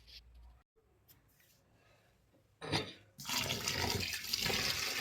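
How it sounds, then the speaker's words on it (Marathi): Rice and urad dal being washed in water, quiet handling at first, then a sudden splash and a loud, steady rush of pouring and swirling water close by. "आता आपण हे तांदूळ आणि उडीद डाळ स्वच्छ धुवून घेऊया."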